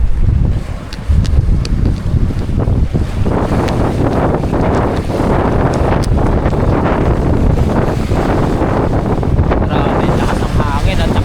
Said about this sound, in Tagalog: lakas ng hangin at saka yung alon